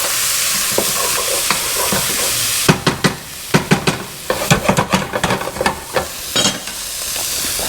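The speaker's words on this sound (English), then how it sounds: "Get some good stir in there." A utensil stirring garlic in a hot frying pan for camarones enchilados, steady oily sizzle underneath, then a run of sharp scraping and clattering strokes against the pan, close and fairly loud with no talking.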